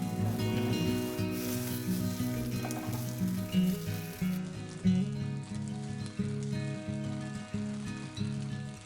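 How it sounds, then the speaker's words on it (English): Broccoli and tofu sear in avocado oil in a pan, giving a continuous moderate sizzle. Faint periodic stirring pulses sit over the hiss, and no one speaks. "Broccoli and tofu. Saute for a few minutes. Allow the veggies to sear and get some nice color."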